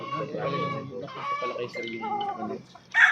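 Golden gray gamefowl chickens on a game farm in Baguio cluck and call up close in a steady stream for about three seconds, with a louder burst at the very end.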